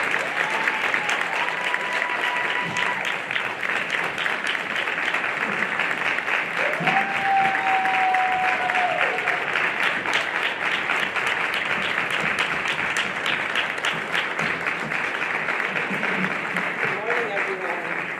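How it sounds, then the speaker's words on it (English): A large audience at a Connecticut Teacher of the Year ceremony claps in a long, dense, even ovation lasting many seconds, with a few faint cheers and voices rising above the clapping. "Please give her a big round of applause, everybody."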